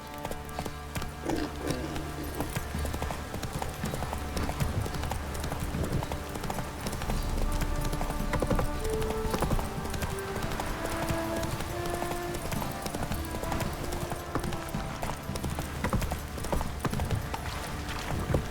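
Steady clip-clop of horse hooves on a hard surface in The Witcher 3, a continuous rhythmic trot over a background of game music.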